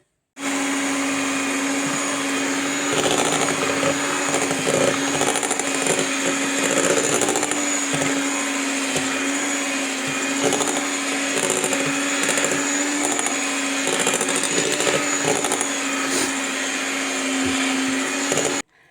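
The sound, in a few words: blender mixing homemade ice cream with cocoa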